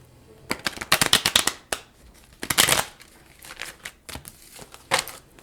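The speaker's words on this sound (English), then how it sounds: "Very difficult deck to shuffle, but it's very fun." Oracle cards from a hard-to-shuffle deck being shuffled by hand: several bursts of crisp riffling and flapping card noise separated by short pauses, close and fairly loud, with no talking.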